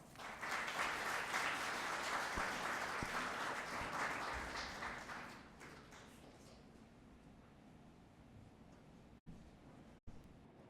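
Audience applause welcoming facilitator Mark Eckhart at an AI summit, a steady crowd of clapping hands that fills the room for several seconds, then thins and fades out, leaving a quiet room with a few sharp bumps.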